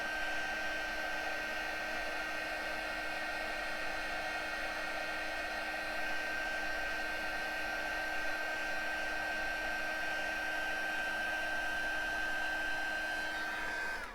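A heat tool blows a steady, loud whir without a break as it melts embossing powder onto cardstock, the hot air rushing evenly throughout with a faint high whine above it.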